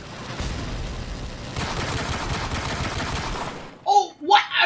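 Gunfire in the video game Call of Duty Modern Warfare, sustained rapid automatic bursts rattling for several seconds, then cutting off abruptly to silence broken by short bursts of a player's voice.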